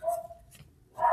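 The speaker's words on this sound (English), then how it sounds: "Sorry, the dog's barking in the background." A dog barks in the background, two or three short barks of moderate loudness spread across a brief moment, with no talking.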